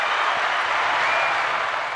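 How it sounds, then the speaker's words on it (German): Audience applause at a logistics and startups talk, a dense, even wash of many hands clapping, loud and sustained throughout with no speech on top. "Also es gibt Applaus von den Rängen."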